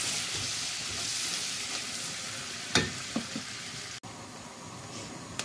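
Spices for a tadka sizzle and crackle in hot oil in a pan, a steady close frying hiss with a few sharper pops and clinks.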